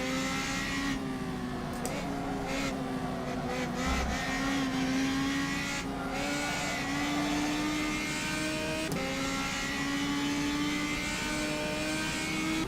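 Race car engines roar in the rFactor 2 driving simulator, a continuous loud engine drone with pitch rising and falling through gear changes and other cars nearby.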